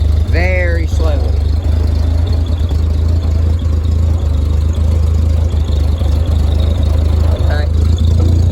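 A 1946 Ford 2N tractor engine runs at a loud, steady low throb close by, with a couple of short squeals early and again near the end.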